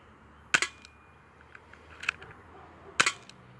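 A cheap UKARMS airsoft revolver fires BBs at a can: three quiet, sharp snaps spaced about a second apart, each followed by a faint tick, over a low background hiss.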